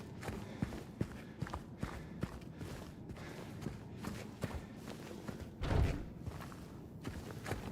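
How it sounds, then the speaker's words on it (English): Heavy footsteps of the first boss in a video game: a series of dull, evenly paced thuds, fairly quiet, with a louder rumbling impact near the end over a low ambient bed. "I think we may have just heard the footsteps from the first boss in the game."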